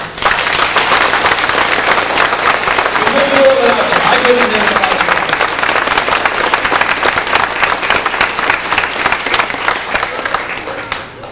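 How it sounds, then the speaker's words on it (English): Loud, sustained applause from the audience at the 1993 Govan, Saskatchewan fiddle contest, with scattered cheers, while a man on the microphone talks over the clapping. "These are the people that deserve the biggest round of applause of all."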